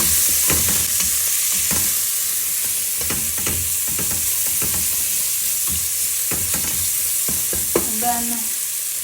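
Green pepper fries in a pan, a steady sizzle broken by repeated scraping stirs at an irregular rhythm, close and fairly loud.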